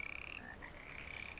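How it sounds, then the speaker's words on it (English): Frogs croaking in a pond at night, a faint, distant chorus of rapid pulsing calls overlapping continuously with no voices. "the frogs had gathered in a little pond by the camp and copulated and"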